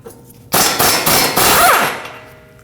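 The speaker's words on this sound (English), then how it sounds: "Use a hammer, tap the knuckle right here" A few loud metallic hammer strikes on a car's steering knuckle ring out up close, sharp clanging hits with a bright lingering ring that fades at the end.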